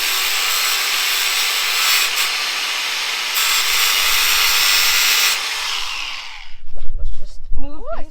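Power grinder cutting off old screws on a metal bed frame, a loud sustained harsh whine for several seconds that cuts out, followed by a voice speaking close by.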